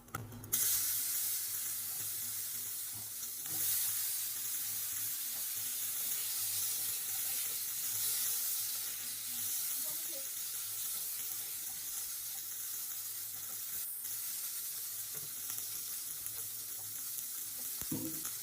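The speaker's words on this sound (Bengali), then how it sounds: "ভেন্ডি আর কুমড়োটা হালকা ভাজা হতে থাক" Okra and pumpkin pieces frying in oil with dried red chilli and five-spice seeds, a steady low hiss of sizzling that runs throughout at moderate level, with a brief clank now and then.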